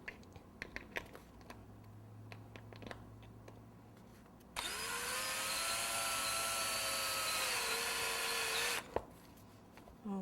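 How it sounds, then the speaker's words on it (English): After a few soft clicks and taps, a power drill driving screws whirs loudly for about four seconds, pitch dipping slightly under load, then stops abruptly. "then you need to drill it in just a little bit more"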